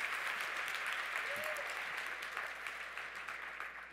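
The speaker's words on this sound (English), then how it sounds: "So please give yourself a huge round of applause" Conference audience applauding at closing remarks, dense sustained clapping from a large crowd filling the room, gradually fading toward the end, with a voice faintly underneath.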